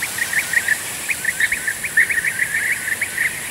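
A green bee-eater calls in flight in Shirvan National Park, a rapid series of soft, ringing trills repeating steadily at a moderate distance over a faint background hiss.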